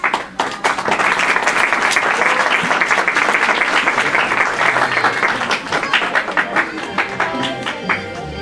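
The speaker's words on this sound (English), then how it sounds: "Please give her a round of applause." A round of applause at a women's seminar, as a woman is invited up to speak: a full, dense burst of clapping from the audience that holds steady and then thins into scattered claps toward the end.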